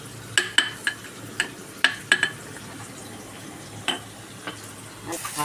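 A spoon stirs chili, ginger and garlic paste into kadhi in a pot, making a run of sharp, close clinks and scrapes at an uneven pace over a soft, quiet background hiss.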